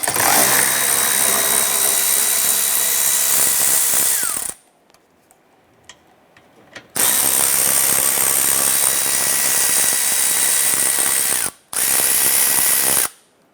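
A power tool loosens and removes the 10mm bolts holding the bumper to its bracket on a 2015-2020 Cadillac Escalade. The tool runs loud and close in two long bursts and one short one, separated by quiet gaps.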